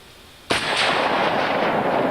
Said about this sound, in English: Be sure those sights are settled down before you squeeze that trigger.